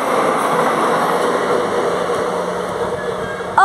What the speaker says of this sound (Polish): Na pewno EU07. Sama lokomotywa PKP Cargo.